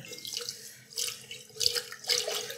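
A quart of light cream poured into a Cuisinart ICE-100 ice cream maker, a soft liquid splashing and gurgling in uneven surges, close and quiet.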